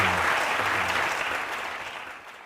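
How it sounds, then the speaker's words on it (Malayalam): A studio audience at a televised courtroom-style talk show applauds, a dense burst of clapping that gradually fades over a couple of seconds. "അതുകൊണ്ട് ഓഡിയൻസ് ക്ലാപ്പ് ചെയ്യണമെന്ന് ഞാൻ ആഗ്രഹിക്കുകയാണ്."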